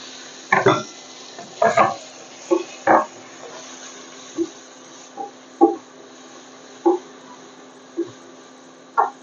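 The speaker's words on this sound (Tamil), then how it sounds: "வெங்காயம் நல்லா வதங்கட்டும்" Chopped onion with spice powder sautéing in oil, heard as a slow series of separate spatula scrapes and clinks against the pan, about a dozen strokes spaced irregularly over a steady quiet hum.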